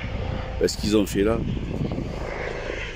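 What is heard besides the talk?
helicopter flying near Purpan hospital helipad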